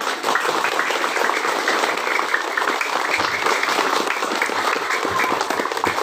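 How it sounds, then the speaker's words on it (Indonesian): Sustained applause from an audience at a primary school ceremony in Indonesia, a steady dense clapping that holds at even loudness for the full six seconds with no voices standing out. "Tepuk tangan."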